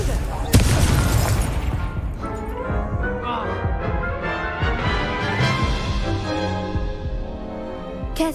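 Confringo spell explosion in Hogwarts Legacy, a sharp blast followed by a rolling boom and a long ringing, tonal magical decay, with a voice speaking over the effects.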